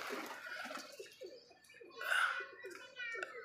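Pigeons gathered in a net coo in soft, intermittent bursts at a pigeon house, set low under a person's nearby voice.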